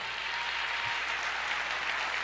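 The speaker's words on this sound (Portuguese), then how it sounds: "Aplauda mais" A church congregation applauds steadily, a soft, even wash of clapping heard from a distance with no voices over it.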